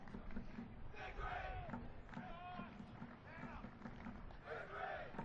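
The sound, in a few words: soccer crowd cheering in the stadium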